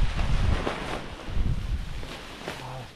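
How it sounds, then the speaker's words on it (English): Gusts of wind buffet a microphone outdoors while a tent is being dried and packed, giving deep, uneven rumbling blasts that rise and fall for a few seconds. "this bloody wind is serious"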